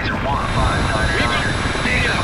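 Mi-24 helicopter gunship in World in Conflict flying in at full speed, a loud sustained rotor and turbine roar that stays close and steady throughout, mixed with battle ambience.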